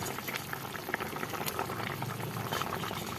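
A pot of curry with potatoes and mustard paste bubbles at a vigorous boil, a dense, continuous crackling and popping of liquid heard close up with no talking.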